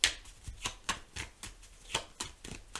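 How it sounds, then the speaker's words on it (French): Tarot cards being shuffled and drawn, a series of crisp, papery riffles and slaps arriving in quick irregular bursts, close and clear with no voices. "Allez, on va prendre encore une ou deux cartes."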